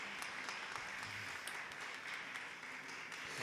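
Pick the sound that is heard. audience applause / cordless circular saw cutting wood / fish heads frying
audience applause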